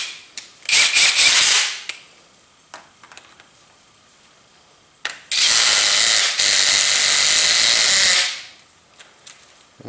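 A power drill whirs in two bursts on a stubborn screw, its slipping clutch clattering in a rapid ratcheting buzz; the second burst runs longer, with small taps and clicks between.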